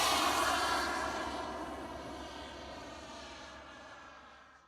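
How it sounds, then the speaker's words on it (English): An RC F-4 Phantom model jet with twin kerosene-burning gas turbine engines passes with a loud, broad whooshing roar and high whine that slowly fades as it moves away. "these models are powered by kerosene-burning gas turbine engines"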